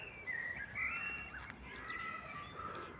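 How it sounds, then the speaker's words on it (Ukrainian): Faint, thin chirps and whistled notes of small birds on a street in Kraków over a soft, hissing outdoor background, with no one speaking. "Пташечки співають."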